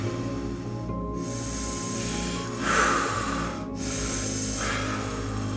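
Slow, deep meditation breathing: long hissing inhales and exhales rise and fall close to the microphone, with a soft steady background hum and no talking.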